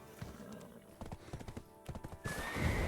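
A horse in Black Desert Online gallops with rapid, rhythmic hoof clip-clops, then lets out a loud whinny near the end, all fairly close.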